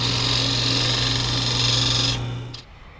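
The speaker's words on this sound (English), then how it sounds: "Using a scraper to gut this thing out" A scraper cuts inside a wooden lidded box spinning on a wood lathe, giving a loud, close, steady grinding whine over the motor hum that fades out near the end.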